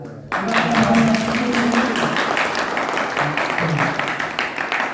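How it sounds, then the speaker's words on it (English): A congregation on a missionary trip in Odisha starts clapping abruptly and keeps up a full, steady round of applause, with faint voices briefly underneath. "Can we clap?"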